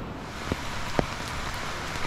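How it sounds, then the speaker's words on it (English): Steady hiss of light rain falling outdoors at a beach resort in Nagaon, with a couple of sharper drips or taps standing out near the start; no voices. "It has started raining now"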